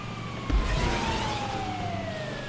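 An ambulance siren in GTA 5, a steady wailing tone that slowly slides downward as the vehicle passes, over engine and road rumble, with a brief thump near the start.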